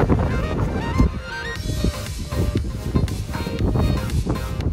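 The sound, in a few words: strong wind outdoors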